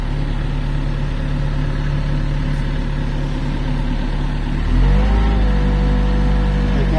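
Excavator diesel engine idling steadily, then the throttle is raised and the revs climb to a louder, higher running note near the end; continuous and close, with no talk.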